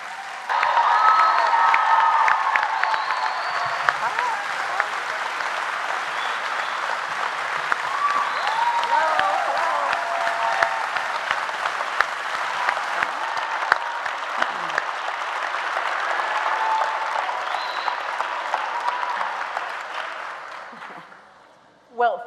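Luncheon audience applauding to welcome Hillary Clinton, sustained loud clapping from a large crowd with scattered cheers, steady for about twenty seconds before fading out abruptly.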